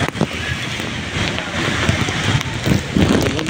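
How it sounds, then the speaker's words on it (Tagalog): Heavy typhoon rain driven by strong wind, a dense steady wash of pouring rain with gusty roar, continuous and close throughout. "Biglang pusong lakas na ulan at yung hangin napakalakas din po. Hangin na may kasamang ulan."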